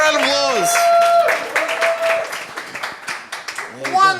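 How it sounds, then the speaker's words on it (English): Applause at a Princess Bride anniversary event for an audience member who answered a quiz, with voices talking over the clapping, which comes through as scattered claps under the chatter. "Give her a round of applause."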